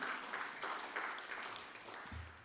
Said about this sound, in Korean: 여러분 박수 한번 해야 되지 않을까요?